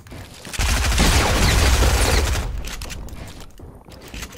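Dense gunfire from the video game Fortnite, a loud sustained burst of rapid shots that swells in the first seconds and then tapers into scattered, fainter reports.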